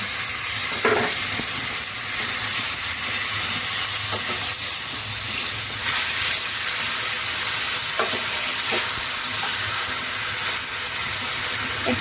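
Pabda fish cooking in a pan after water is poured in, giving a dense, loud, continuous sizzle and bubbling with occasional faint clinks of stirring, close and steady throughout.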